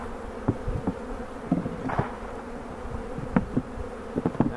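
Honeybees from a five-frame nuc buzz steadily and close as they are shaken into a hive body, with faint knocks and thuds scattered through the droning.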